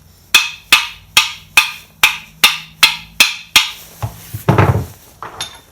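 Nine evenly spaced sharp metallic taps on screw heads while seating the bearings in Polini engine cases for an MBK 51 moped with a Malossi G2R, loud and close, followed by a short clattering rustle.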